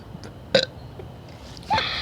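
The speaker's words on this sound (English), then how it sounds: "It's a soda burp." Two soda burps after drinking Diet Coke, a short one near the start and a longer, louder one at the end, close to the mic with no talking.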